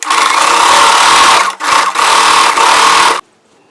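Sewing machine stitching a layered bottom frill onto a churidar, a loud close steady whir that runs, breaks off briefly twice, then stops.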